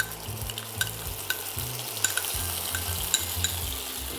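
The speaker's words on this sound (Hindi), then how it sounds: "क्विकली इसे हम भूनेंगे ताकि इसका जो कच्चापन है वो निकल जाए।" Peanut sauce paste is fried in oil and stirred quickly for Thai chicken satay, giving a continuous close sizzle with regular spoon taps and scrapes and a low rumbling hum underneath.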